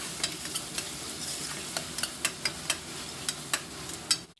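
Pieces frying with ginger garlic paste in a pan for mint rice, a soft continuous sizzle with a run of sharp spatula taps and scrapes as they are stirred, close up, no voices.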